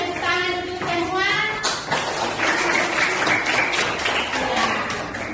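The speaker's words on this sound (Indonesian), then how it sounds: "tepuk tangan untuk semua" Students in an Indonesian classroom clap together, a loose burst of applause that fades and returns, with children's voices chattering underneath.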